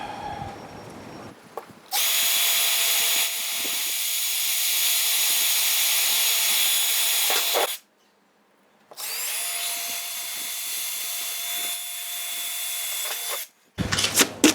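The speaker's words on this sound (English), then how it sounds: "So just drilled some 3mm pilot holes." A power drill bores 3mm pilot holes into the body of a Nissan Navara D22 during a snorkel install, a loud steady high whine running for several seconds, a pause, then a second long run.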